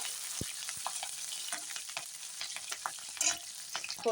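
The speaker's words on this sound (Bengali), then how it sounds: "লঙ্কাটা সুন্দর ভাজা হয়ে গেছে" Fresh green chillies fry in hot oil as a tempering for dal, a light crackling sizzle punctuated by scattered stirring clicks and scrapes of a spoon against the pan.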